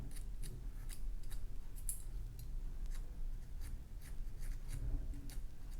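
A hand carving tool scrapes and ticks in quick light strokes while rounding corners in a low relief wood carving, faint and close over a steady low background hum.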